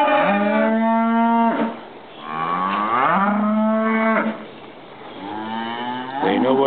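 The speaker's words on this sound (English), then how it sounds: "Cows aren't very happy." Cattle in a ranch pen mooing loudly and close by, several long drawn-out lows one after another with brief pauses between them.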